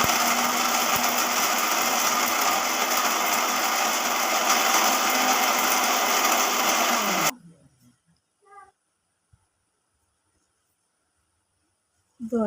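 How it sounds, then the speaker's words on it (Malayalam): A mixer grinder roars loud and steady while grinding roasted jackfruit seeds, running continuously for about seven seconds before cutting off abruptly, followed by faint clinks and near silence. "നമുക്കിനി ഇത് മിക്സിയിലിട്ട് പൊടിക്കാം"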